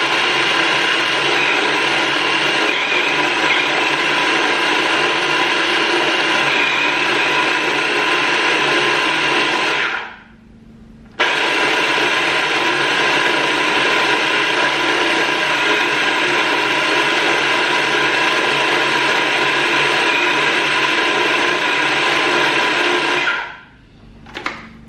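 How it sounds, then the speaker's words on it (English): A small food processor whirs loudly and steadily, mixing butter for blueberry muffins, then cuts out briefly, starts again and stops near the end. "the mini size of this food processor is causing some issues"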